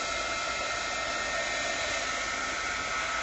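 A hair dryer blows steadily and close up, drying paint on an art journal page, making a constant loud whooshing roar with no breaks and no voices.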